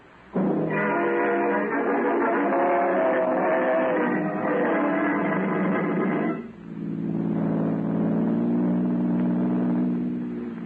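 Radio drama effect of a car engine revving and driving away, a loud steady engine drone that dips briefly, then resumes at a lower pitch.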